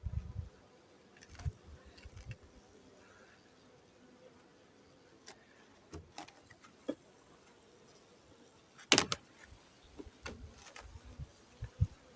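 Honeybees at an open hive during a colony inspection make a soft, low buzz. Louder knocks and clicks from handling the frames break in at irregular moments.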